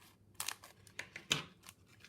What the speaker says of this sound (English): Let's just cut that in half.